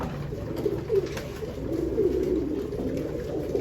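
Pigeons coo softly and steadily inside a pigeon loft, a low, rolling murmur heard close but at modest volume.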